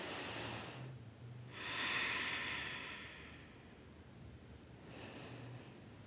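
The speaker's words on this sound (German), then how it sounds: "nimm noch 2 Atemzüge" Slow, deep breaths during a yoga exercise, with two long airy exhales separated by pauses, heard close and soft against faint background hiss.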